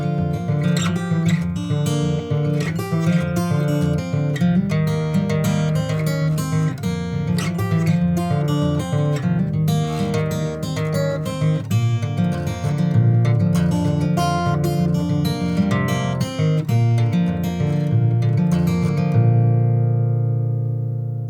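Country blues fingerpicking on acoustic guitar playing Going Down The Road, a continuous picked performance with bass notes and melody running about twenty seconds before a final ringing chord fades out.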